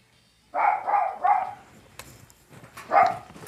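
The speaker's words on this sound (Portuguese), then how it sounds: "Agora é cachorro." A cartoon dog barking in the Advance Wars video game, three quick yapping barks in a row, then a pause with faint clicks and a final single bark, fairly clear and close.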